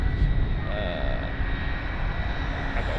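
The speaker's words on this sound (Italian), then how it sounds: "guardare gli aerei atterrare" Airplane landing at Barcelona airport, a loud continuous engine roar close overhead with a steady whine running throughout, no talking.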